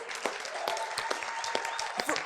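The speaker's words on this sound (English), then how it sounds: "Yeah, let's give them a round of applause." Crowd applause for dairy farmers at a live pitch event, steady clapping with some sharper individual claps and faint voices underneath.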